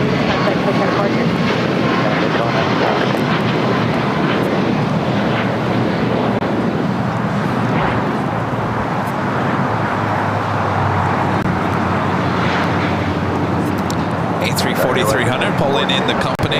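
Jet engine noise from an Airbus A340-300 taxiing at LAX fills the scene as a loud, steady roar with wind buffeting, while people talk throughout.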